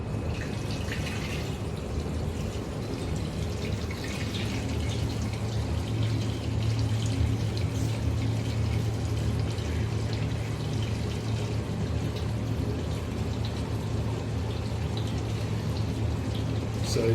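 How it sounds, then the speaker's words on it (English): Sweet wort running off from the mash at a brewery, a steady, continuous pouring and splashing of liquid with faint dripping, unchanging in level throughout. "this is now sweet wort coming out"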